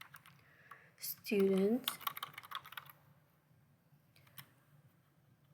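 Quick clicking keystrokes on a computer keyboard while entering a spreadsheet formula, close and moderately loud, with a voice speaking over part of the typing.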